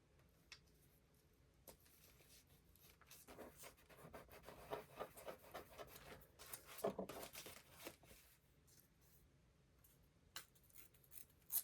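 Paper scraps trimmed with scissors for an art journal, with intermittent snipping and rustling cuts that bunch up midway, close and fairly quiet, with no talking.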